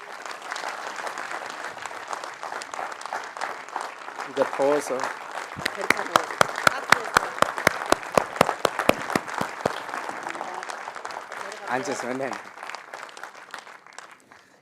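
An audience at an Atomy India felicitation event applauds, with a thick wash of many hands clapping and a run of sharp, rhythmic louder claps in the middle, while a presenter's amplified voice speaks over it at the start and end.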